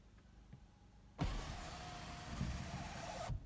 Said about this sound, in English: if I push sunroof, you can open the sunroof